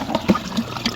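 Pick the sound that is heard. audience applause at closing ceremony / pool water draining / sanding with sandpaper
pool water draining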